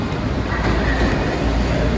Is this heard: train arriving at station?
yes